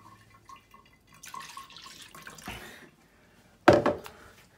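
Water poured away from a container while measuring an amount, heard as short trickles and drips followed by a sudden louder splash near the end, close and alone without talk.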